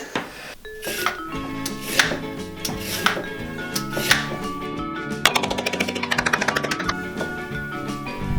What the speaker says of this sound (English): Now we need to wash, peel and chop our vegetables.